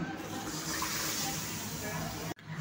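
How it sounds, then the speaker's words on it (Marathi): Two glasses of water splash into a kadhai for cooking shevai, a steady gushing pour that cuts off abruptly just before the end. "त्या कढईमध्ये आता आपण 2 ग्लास पाणी टाकणार आहोत शेवईसाठी"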